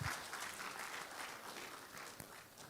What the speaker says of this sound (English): I request another round of applause to the board of chairman of MTN Nigeria